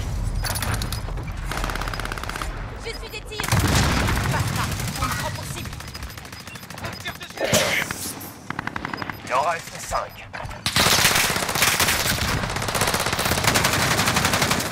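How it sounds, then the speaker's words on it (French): Gunfire aimed at the player in the video game Fortnite at Fortune's Keep, with rapid automatic bursts and bursts of shots that stop and start over the length of the clip, loud and close, under a steady game background. "J'essuie des tirs."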